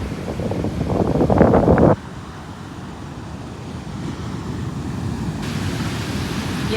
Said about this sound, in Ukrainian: І ось цей пісок, і це море.